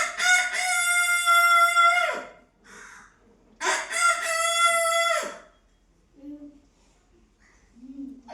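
A voice imitates a rooster crowing, giving two long, loud cock-a-doodle-doo calls separated by a pause, with brief softer vocal sounds afterward.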